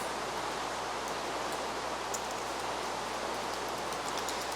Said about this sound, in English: Why does the rain always choose to rain during mod showcases?